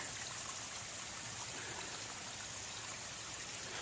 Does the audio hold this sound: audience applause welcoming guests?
no